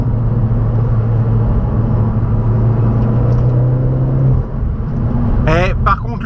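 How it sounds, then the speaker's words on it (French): An Opel Corsa OPC with 230 hp and front-wheel drive, its engine and exhaust giving a loud, steady droning rumble while accelerating, heard from inside the car, with a brief rising whine near the end. "Et par contre, le son à l'échappement"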